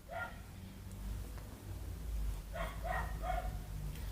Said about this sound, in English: all those dog sounds from my neighbor's pets